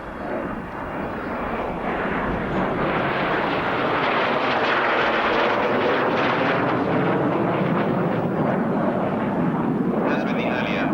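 Royal Air Force strike jet flying a display at an RAF Abingdon airshow, a loud sustained jet roar that swells and holds steady throughout as the aircraft passes.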